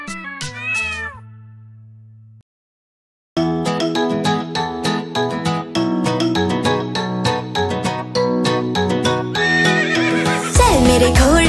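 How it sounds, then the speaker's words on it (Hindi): Cat meows open the clip, then bouncy Hindi children's rhyme music with a rhythmic horse clip-clop beat plays, and a horse whinnies loudly near the end. "चल मेरे घोड़े चल चल चल"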